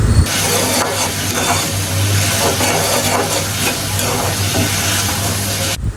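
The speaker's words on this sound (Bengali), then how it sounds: "এখন আমি ঢাকনা দিয়ে মরিচটাকে কিছুক্ষণ কষিয়ে নেব" Chili paste frying in a covered pan for a shark fish curry, a steady loud sizzle and hiss throughout with faint stirring scrapes underneath, ending abruptly.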